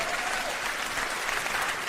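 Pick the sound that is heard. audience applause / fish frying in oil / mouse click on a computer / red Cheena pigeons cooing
audience applause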